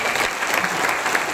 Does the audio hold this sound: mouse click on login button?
no